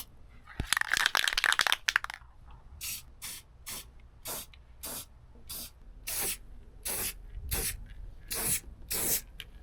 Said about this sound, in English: So I'm just gonna spray the inside edge of the metal and we'll be all good to go.